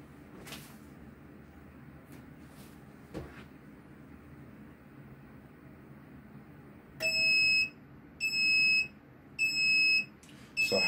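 Heat press timer alarm sounds after a 10-second transfer press, four loud, shrill, evenly spaced beeping bursts following a few quiet thumps and handling noises.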